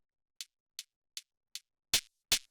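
High-passed kick drum layer for distorted industrial techno, four thin, bright ticks at an even pace followed by two louder, fuller distorted hits, played alone and fairly quiet.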